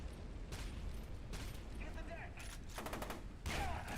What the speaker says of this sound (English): I've heard stun grenades sound stronger than that.